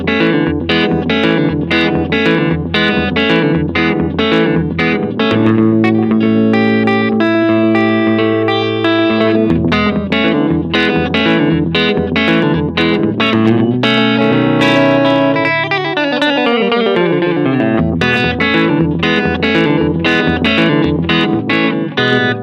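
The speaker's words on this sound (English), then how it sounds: "So when you start with the Echo setting, it's very tape delay." An electric guitar riff through a Donner Versa Yellow Fall 2 delay pedal on its tape-style echo setting, drenched in echo, each note repeating in quick fading trails, with a slightly warbling, gritty tone that plays continuously throughout.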